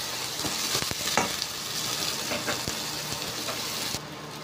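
Onion sautéing in a pan for chicken arroz caldo, a steady close sizzle with scattered stirring clicks and scrapes, the frying staying even until it briefly dulls near the end.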